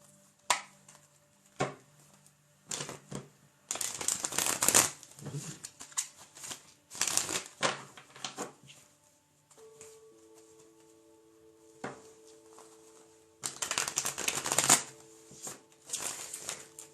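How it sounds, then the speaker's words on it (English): Tarot cards being shuffled by hand in bursts of crisp riffling and slapping, several separate rounds with quiet pauses between, close and fairly soft, with a faint sustained tone in the background midway. "We're going to shuffle these cards and keep grooving."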